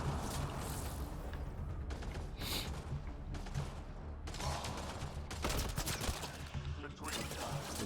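Bursts of gunfire and blasts in the sci-fi shooter Mass Effect Andromeda, sharp broadband volleys arriving in clusters with brief gaps, fairly quiet overall and mixed with mechanical clatter.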